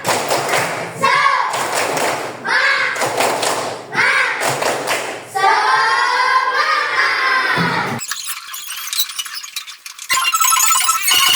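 Elementary-school class of third graders doing a rhythmic spirit clap, a series of sharp clustered claps in bursts with children's voices shouting along, loud and close in a classroom.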